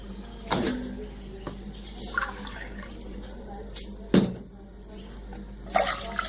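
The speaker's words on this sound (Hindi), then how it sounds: "अब मैं पानी डालने लगी हूँ।" Water poured into a cooking pot while making qehwa, a spiced green tea, heard as irregular splashing bursts over a low steady hum, close by, with no talk.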